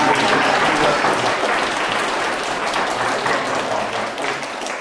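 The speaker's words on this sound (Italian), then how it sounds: "Un applauso" Applause from an outdoor civic gathering in an Italian town as the mayor is welcomed, a loud, sustained wash of many clapping hands that tapers slightly toward the end, with some voices beneath it.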